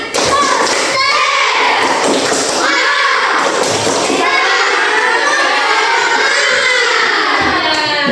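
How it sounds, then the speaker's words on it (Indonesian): A classroom of pupils in an Islamic religious education lesson doing a rhythmic spirit clap, loud close thumping hand claps in a patterned beat with children chanting and shouting along throughout. "Tepuk semangat."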